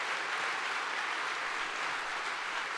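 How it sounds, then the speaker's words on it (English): Audience applause in a university lecture hall, a steady dense wash of clapping that stays loud and even throughout with no voices over it. "that's premature applause"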